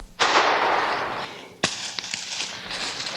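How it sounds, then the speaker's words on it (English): A single sharp gunshot cracks in the woods during a squirrel hunt, followed by a decaying echo and a second, smaller crack with faint rustling afterward. "Good shot, Justin."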